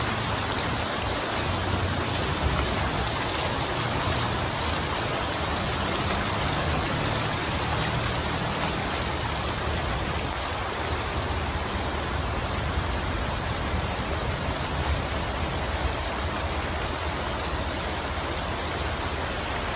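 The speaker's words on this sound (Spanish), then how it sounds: "Este es el arroyo de la avenida Tecnológico, viene bastante fuerte" Rushing floodwater streams down Avenida Tecnológico in Mexico during heavy rain, a dense, unbroken roar of water and rainfall that stays loud and constant throughout.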